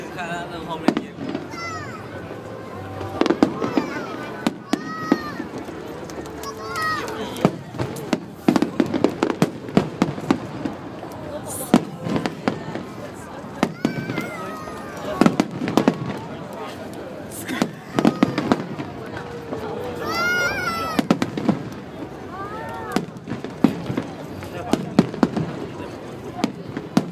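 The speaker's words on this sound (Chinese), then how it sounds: "其实看他那后面烟火" Harbour fireworks at Dadaocheng Wharf in Taipei burst in repeated booms and crackles at varying distances over nearly half a minute, while adults and children chatter nearby throughout.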